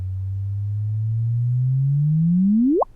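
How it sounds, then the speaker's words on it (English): A sonified gravitational wave signal from a binary neutron star merger: a clean, steady low tone that slowly climbs in pitch for nearly three seconds, then sweeps sharply upward into a brief whoop and stops abruptly. "So here is the sound of that binary neutron star event we detected in"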